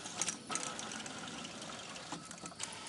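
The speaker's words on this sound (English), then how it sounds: "commands that run this 4-axis CNC machine" A 4-axis CNC machine that drives a 3D-printing extruder runs with a faint, steady mechanical whir. Brief rattling bursts break through near the start and end, heard from close by in a quiet room with no talking.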